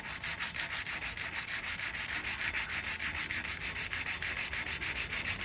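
Light hand sanding of a rusty metal part, a steady run of even back-and-forth rubbing strokes at a quick regular rhythm, close and moderately loud, with no talking.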